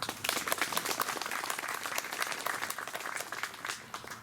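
Audience applause for dignitaries being introduced at a Yorktown Victory Day ceremony, steady dense clapping from a crowd sustained throughout, moderately loud with no voices over it.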